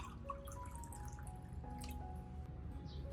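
Water trickles and drips softly while being poured to dilute an orchid plant solution, faint and close, with no one speaking.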